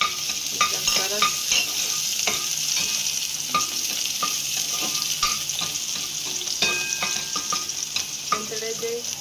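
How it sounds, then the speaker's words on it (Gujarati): Ginger garlic paste sizzles and fries in two spoons of hot oil in a pan. The frying is continuous and close, with a spoon stirring and scraping throughout and no talking. "એમાં નાખીશું આ આદુ લસણની પેસ્ટ અને બરાબર સાંતળી લઈશું"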